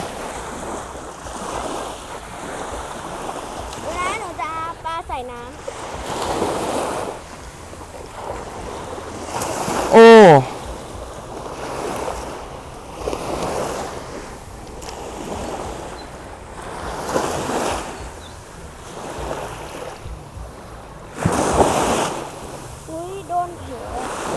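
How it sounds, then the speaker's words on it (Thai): Surf waves wash ashore at Bang Saray beach in Thailand in repeated swells, breaking and receding in a slow rhythm under gusty wind noise on the microphone, with a few brief voices heard now and then. "ตอนนี้นะครับก็อยู่ที่หาดบางสะเลนะครับ"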